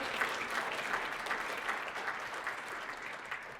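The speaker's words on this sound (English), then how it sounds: "Give them a huge round of applause," Audience at a real estate agent event breaks into applause, an even, fairly soft patter of many hands clapping steadily from start to finish.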